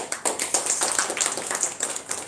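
An audience at a Toastmasters club meeting claps together, a dense burst of many hands applauding steadily for a couple of seconds, moderately near.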